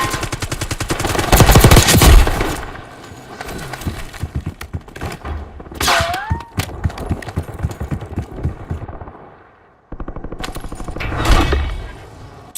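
Rapid bursts of gunfire in a Call of Duty match, loud rattling volleys with sharp individual shots and thuds, pausing briefly between clusters.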